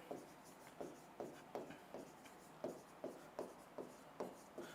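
Chalk or marker writing on a classroom board during a lesson, heard as a steady series of short scratchy strokes, about ten of them, close and clear with no talk.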